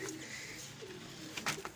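Soft, low cooing from double-eyed pigeons with their chicks nearby, a gentle rolling coo with a brief flutter of sound toward the end.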